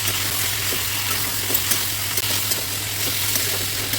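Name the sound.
stirring ginger-garlic paste and spices in a frying pan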